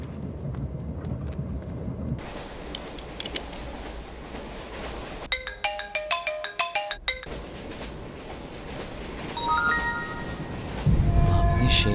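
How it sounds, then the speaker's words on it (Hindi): A phone ringtone for an incoming call plays as a bright, repeating electronic melody of quick pulsed tones over a steady low background hum, starting partway through and ending before another rising musical tone. "पापा का फोन आ रहा है पर फोन चार्ज नहीं है।"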